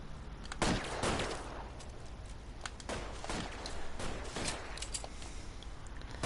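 Gunfire in the video game L.A. Noire: a burst of sharp shots near the start, then scattered single cracks spread through the clip over a steady background rumble.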